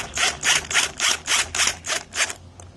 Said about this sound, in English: So as I compress, as I keep turning the screw, that riv nut will compress inside.